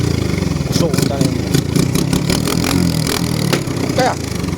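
An old engine of a racing pump boat runs steadily nearby, a loud continuous throbbing drone with sharp rhythmic pulses, while people talk over it.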